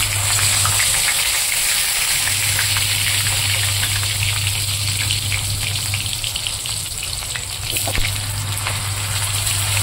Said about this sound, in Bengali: ফুলকপিগুলো আমি এখানে ভেজে নেব আগে।